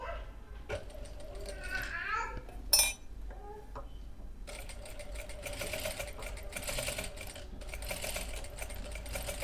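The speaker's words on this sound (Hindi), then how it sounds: "अब हम सिलाई करना स्टार्ट करेंगे" A sewing machine runs in short stitching bursts during a silk embroidery lesson, the motor whirring steadily after a pause, with a faint dog bark and clinking in the room.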